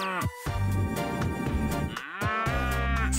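Cartoonish cows moo in the game Pip Sweep, several drawn-out lowing calls in succession, loud and close, with a brief gap between calls.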